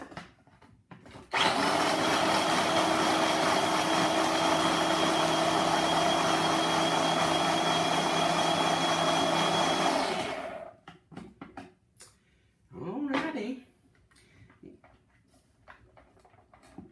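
A food processor whirs loudly and steadily for about nine seconds as it blends oats and cashews, then cuts off, leaving scattered clatter and a brief short burst of motor noise.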